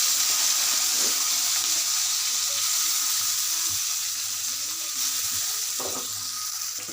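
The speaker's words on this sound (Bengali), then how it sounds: "তেলটি গরম হয়ে গিয়েছে, এর মধ্যে আমি পেঁয়াজ দিয়ে দিচ্ছি।" Onions dropped into hot oil in a home kitchen, frying with a loud, continuous hissing sizzle that fades slightly toward the end, with faint stirring clinks underneath.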